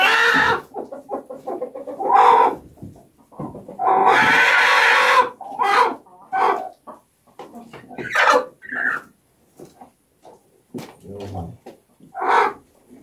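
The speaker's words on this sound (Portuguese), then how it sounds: "Galinha solta." Free-range chickens cluck and squawk in short bursts up close on a small farm, with a voice speaking intermittently between the calls.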